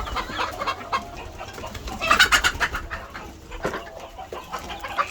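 Laying hens on a farm cluck and murmur in short, scattered calls as they head out to feed, with a few sharper squawks standing out against faint background noise.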